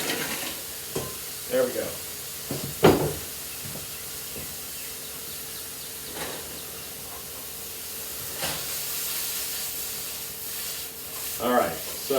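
Mushrooms fry in oil in a large pot, a steady close sizzle with occasional stirring clatter, and a person speaks briefly.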